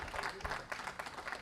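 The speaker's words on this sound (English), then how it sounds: "Can I have a better clap?" Audience clapping at a startup book launch in Abuja, a short burst of moderate applause from a small crowd with no voices over it.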